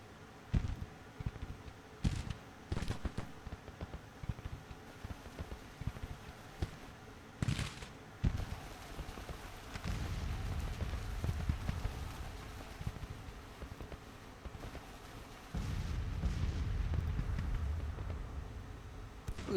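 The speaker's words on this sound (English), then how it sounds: "Totten, your men can fire whenever they please." Civil War artillery battery firing in a video game, heard as repeated sharp booms and cracks at irregular intervals with a sustained rumbling low roar building in the latter half.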